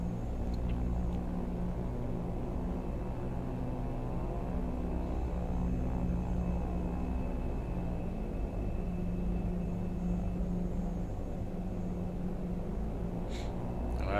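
An Avanti P.180 twin-turboprop cruises in flight in the X-Plane 11 simulator, giving a steady, low droning engine hum that stays constant and even throughout.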